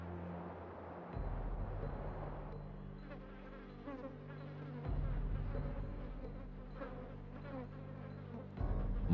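Flies buzz steadily and close over a lioness's open wounds, a continuous droning hum with a low rumble that surges at intervals.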